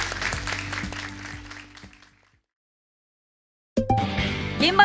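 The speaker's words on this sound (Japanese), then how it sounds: "改めまして森永さんに拍手を送りください。" An audience at a public radio recording for a business talk show applauds, a dense patter of clapping that fades to silence, then a fresh loud burst of applause starts again.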